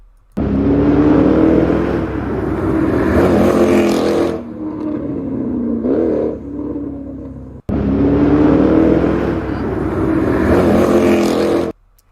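Loud car engine revving close by in two long sustained bursts, with a lower idling rumble and a brief blip between them, cutting off sharply at the end.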